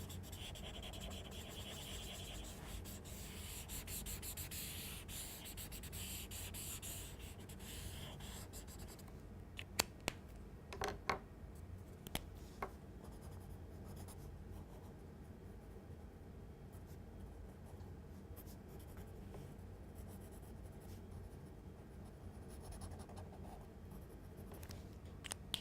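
Colored pencil rubbed back and forth on paper to blend and smooth a lighter color over darker shading, a steady soft scratchy friction running throughout, close and quiet, with a few light taps midway.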